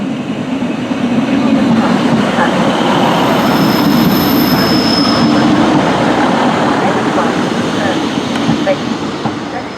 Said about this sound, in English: coming on the platform now is the Class 150 that shall be taking the 1745 to Bedford